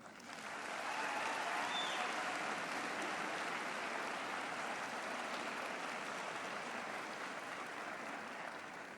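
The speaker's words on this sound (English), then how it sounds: "Now we request the graduates to applaud their parents" Graduates at an autumn health sciences graduation ceremony applaud their parents, relatives and friends, producing a sustained, even wash of clapping from a large hall that stays constant throughout and sounds somewhat distant.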